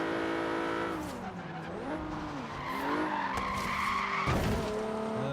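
Tires squealing and skidding as a car on street tires loses grip through a corner on expert difficulty in Forza, with a steady engine drone and rising, sliding squeal tones that swell and fade over several seconds, loud and close.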